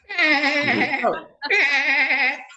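A person imitates a goat at a community Passover seder, giving two long wavering bleats in quick succession, close and loud, with a short gap between them.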